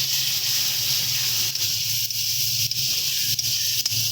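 Tomato paste hitting frying masala for a spicy pomfret curry, giving a steady loud sizzling hiss with a low bubbling undertone that runs throughout, with small dips in intensity.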